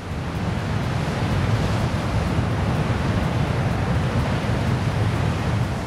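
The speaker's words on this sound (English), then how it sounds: "There is a booming sound in Dynjandi, so the waterfall is befitting of its name" Dynjandi waterfall in Iceland's Westfjords roars as a dense, steady, thunderous rush of falling water, loud and unbroken throughout with no voices.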